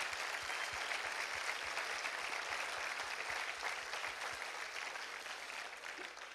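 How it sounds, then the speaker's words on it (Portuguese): Steady, dense applause from a church congregation, sustained throughout with no pauses and no speech over it. "Vamos aplaudir a palavra do Senhor."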